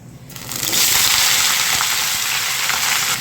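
Mixed colourful vegetables tipped into hot oil tempered with panch phoron, dried red chillies and bay leaf, bursting into a loud, steady sizzle that swells within half a second and holds strong throughout.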